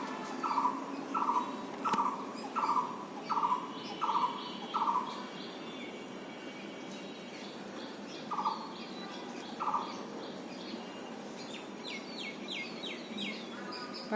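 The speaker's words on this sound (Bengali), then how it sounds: "পাখির ডাক ভালো লাগে।" Birds call in a garden: a run of about eight sharp, evenly spaced squawking calls, then two more after a pause, over a quiet background of softer chirps.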